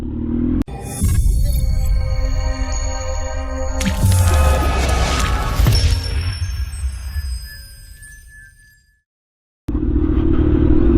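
A motorcycle rides along in a steady drone of engine and wind, swelling as it revs and accelerates, then the noise tapers away into a brief silence before the engine roar returns abruptly.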